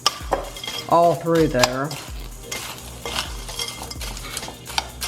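A spoon stirs a dry pretzel crunch mixture of crushed and whole pretzels in a bowl, giving a run of scraping, rattling strokes that stay close and fairly loud, with a brief voice partway through.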